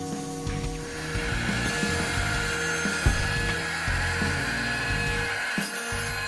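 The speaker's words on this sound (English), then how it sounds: "The 4-axis CNC machine offers varied tools for precise, fast woodworking tasks" A 4-axis CNC machine carves wood, giving a steady whining spindle tone over a rough cutting and grinding texture that shifts in short stepped passes, close and continuous.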